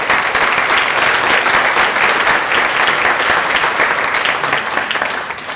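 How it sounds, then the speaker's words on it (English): A seniors talent show audience applauds in a steady, dense burst of clapping that holds loud and even for several seconds before starting to taper at the end. "Let's give one final round of applause."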